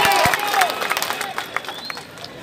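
Crowd at an Aurangabad political rally breaking into applause, dense clapping that thins into scattered claps, mixed with cheering and crowd babble, with a loud voice over it at the start.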